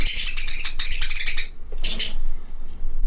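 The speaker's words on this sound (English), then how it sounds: "No fighting. Stop fighting. Birds are fighting." Pet parakeets squabbling indoors with rapid, shrill chattering chirps in dense bursts, a short pause, then another sharp flurry, close and fairly loud.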